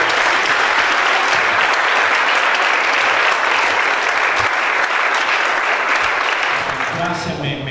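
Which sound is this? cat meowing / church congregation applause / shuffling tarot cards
church congregation applause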